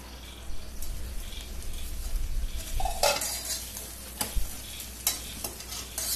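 Senai kizhangu (elephant yam) pieces crisping in hot oil in a pan, a steady sizzle with scraping stirs and a few sharp utensil knocks against the pan toward the end.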